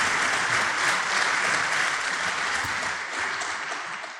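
A church congregation applauds God during a service, thick sustained clapping filling the room at full strength before gradually thinning out toward the end.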